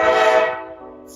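A passing train near the Chicago River in the city sounds a loud, sustained horn blast close by that fades over about a second.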